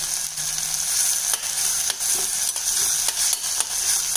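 Chopped capsicum and sambar powder sautéing in a pan for tamarind pachadi, giving a constant, loud, bright sizzle broken by regular scraping strokes of a spatula.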